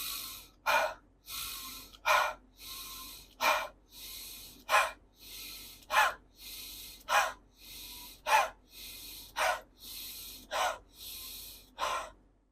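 Intense deep breathing exercise: a rapid, regular series of forceful sharp inhales and exhales, about a dozen close, loud breaths evenly paced with brief pauses between.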